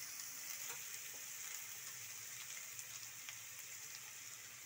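Ginger-garlic paste and green chilli paste frying in oil for masala idli, a faint, steady hiss of sizzling with light crackles and no talk.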